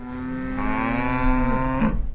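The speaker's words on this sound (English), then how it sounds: "That sound means it's feeding time for Marty Woldridge's 600 head of cattle" Cattle from a 600-head Louisiana herd mooing at feeding time, one long, loud, close bellow rising in pitch midway and holding for nearly two seconds, with no speech.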